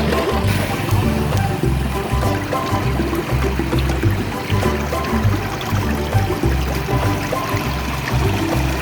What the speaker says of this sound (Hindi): ये नहर का पानी जो खेतों में जा रहा है, कितना प्यारा लग रहा है ना।